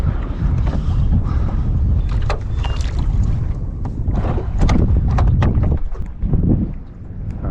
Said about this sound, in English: That wind's starting to get up a little bit,